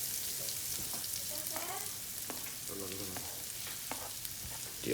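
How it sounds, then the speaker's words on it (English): Onions sizzle steadily in hot oil, a constant hissing crackle with occasional scrapes and stirring clatter, close up and fairly quiet, no talking. "So you can hear the sizzle."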